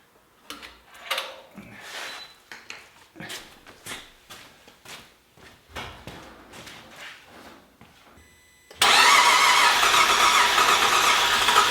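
A series of clicks and cranking bursts, then the engine of a Cadillac/Chevy hybrid hot rod catches and settles into a loud, steady roar that continues to the end.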